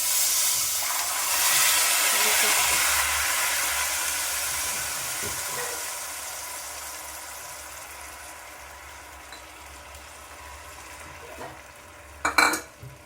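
Water poured into vermicelli roasting in ghee for semiya kesari sets off a loud, close hiss that slowly fades over several seconds, ending with a couple of sharp clinks of a utensil against the pan.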